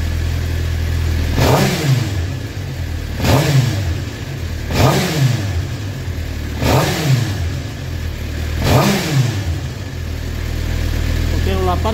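A Suzuki GSXR750 idles with a misfiring engine, its steady low rumble broken by regular stumbling surges about every two seconds, close by.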